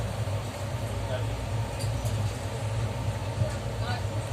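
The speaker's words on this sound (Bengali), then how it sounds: "লোকাল ট্রেন পাস করছে।" A local train passes on the outskirts of Bardhaman, heard as a steady low rumble and drone throughout from inside a moving train, with faint muffled voices.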